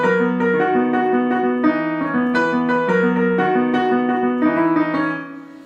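On piano, the riff from a song is played without the sustain pedal: crisp, detached repeated chords and melody notes in a steady bouncing rhythm, close and clear, with each note cut short.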